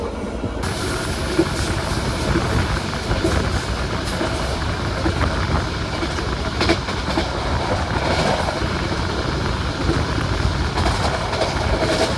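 The Fajar Utama Yogyakarta–Jakarta economy train rolls steadily along the rails past Kutoarjo station with a continuous rumble and rattling clatter, broadband and close, with occasional hissing bursts and no voices.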